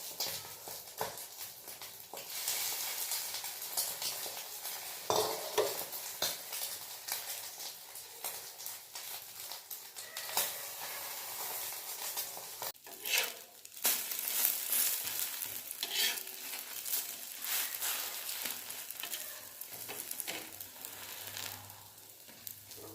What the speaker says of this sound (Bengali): পাউরুটিটাকে ডিমের মধ্যে এভাবে ডিপ করে তার মধ্যে তেলের মধ্যে দিয়ে দাও